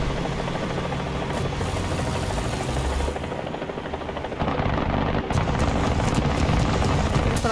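A helicopter hovers overhead in the video game War Thunder, its rotor and engine making a loud, continuous throbbing drone that grows a little heavier partway through.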